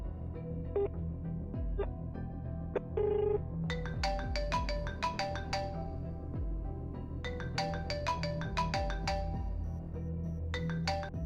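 Repeated bright electronic ringtone chimes on a phone come in bursts during an outgoing call, fairly clear over a low background hum, with pauses between ring cycles and no talking.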